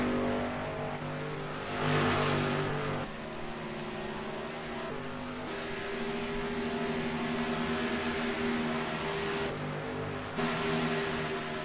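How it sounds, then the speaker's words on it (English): Race car engine in a sim racing video game at Auto Club, a sustained droning engine note that rises and falls with gear changes and revving, steady and loud throughout. "Randy Roberts, he's bringing his car down the pit lane right now."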